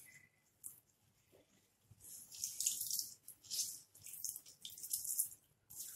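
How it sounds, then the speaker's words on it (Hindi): Bread slices are dipped in water and squeezed out by hand while preparing aloo bread pakora, giving soft intermittent splashes and dripping trickles, quiet and close, with no talking. "एक एक ब्रेड को हम पानी में ऐसे डुबा लेंगे और पानी को हम निचोड़ देंगे।"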